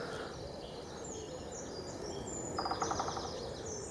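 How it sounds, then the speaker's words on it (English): A woodpecker pecks at trees near a wild forest campsite, a quick, evenly spaced burst of taps late in the moment, rising over soft birdsong and steady outdoor ambience. "You hear him pecking the trees"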